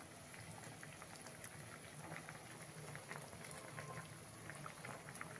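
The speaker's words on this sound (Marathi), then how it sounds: "अजून थोड्या वेळ अशीच दणक्यात उकळीच राहू द्यायची" Varanphal with tamarind pulp at a vigorous rolling boil in a pot, giving a steady dense bubbling and spattering hiss that stays even and close throughout.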